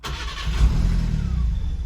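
A Subaru Sambar's engine cranks and catches, then settles into a close, low, steady idle that continues alone for the rest of the moment.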